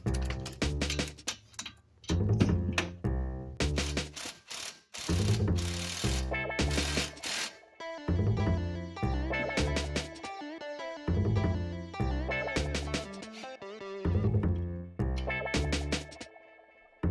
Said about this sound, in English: That's just a 18 millimeter wrench I use to pull that on in.